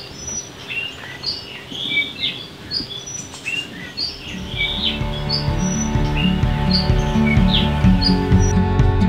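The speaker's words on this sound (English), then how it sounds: "there's tons of birds around here, and their songs are really," Birds chirp and sing in scattered high calls, several at a time, on a remote Mexican bay, over a steady background of outdoor hum that grows denser halfway through.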